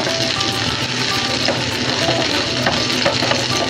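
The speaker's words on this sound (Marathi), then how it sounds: "आता मस्त हे तव्यामध्ये मी लेग पीस टाकून घेतलेत." Chicken leg pieces sizzle steadily in oil on a tava, a dense, close, continuous frying hiss with faint scraping stir sounds and no talk.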